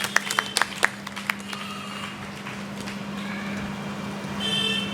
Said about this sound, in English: Please give a round of applause to Anand Thakur.